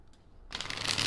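After a brief quiet moment, a tarot deck is riffled in a quick, close fluttering burst.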